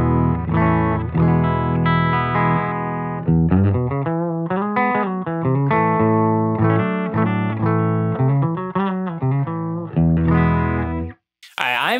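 An electric guitar played through a Valco KGB distortion pedal into a Silktone tube amp with a warm, driven tone, strummed chords and single-note runs ringing out before cutting off abruptly.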